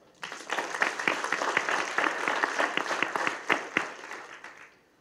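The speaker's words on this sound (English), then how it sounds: "Please give yourselves a round of applause." An audience at a Brockton interfaith community candidates forum applauds itself, the clapping rising quickly and holding for several seconds. Distinct individual claps stand out clearly before it tapers off near the end.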